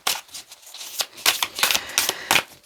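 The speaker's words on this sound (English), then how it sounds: "one more little shuffle and we're gonna pull them out." Tarot cards are shuffled by hand in close, crisp bursts of riffling and flicking, irregular clusters of papery snaps with brief pauses between, with no voices.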